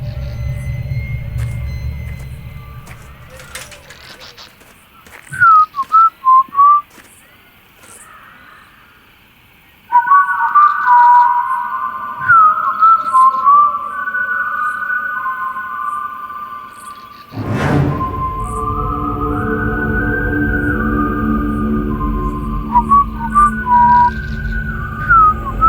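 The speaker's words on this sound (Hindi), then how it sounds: "सीटी कौन बजा रहा है?" Someone whistles inside an old palace, producing several short warbling phrases and then longer sustained tones, clear and fairly close over a low background rumble, with a loud thump partway through and no talk.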